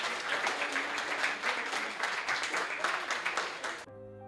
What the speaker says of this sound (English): Let's give Air 418 a big round of applause for an awesome robot in 30 hours build.